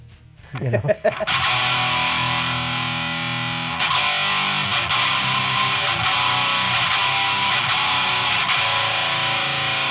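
Fender electric guitar strummed through heavy distortion, a loud, sustained fuzzy chord that rings out, is struck again partway through and keeps droning without a break.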